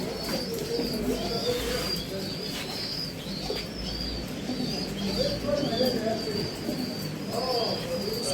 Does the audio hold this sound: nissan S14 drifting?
no